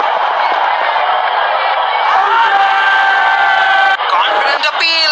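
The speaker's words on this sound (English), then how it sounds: "Good to see the crowd getting involved." A large cricket stadium crowd at an India versus South Africa Test match keeps up a dense, continuous roar of cheering and whooping, loud and sustained throughout, with shouts and whistles rising near the end.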